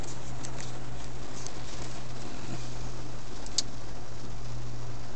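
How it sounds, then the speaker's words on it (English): Steady rain falls outside a parked van: a dense, even patter that continues unbroken, with a few slightly sharper drops standing out and no voices. "it's just raining."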